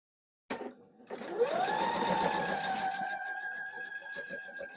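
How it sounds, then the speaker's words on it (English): A home sewing machine stitches a quilt block after a brief knock, its motor whirring up to speed and running in a steady rapid hum with quick needle clatter, loud and alone. "with my machine, it seems to bunch up and not sew correctly"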